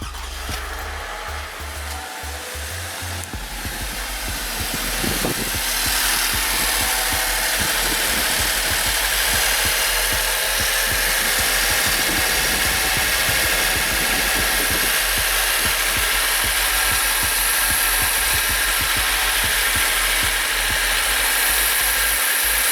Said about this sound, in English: now it's time to start the engine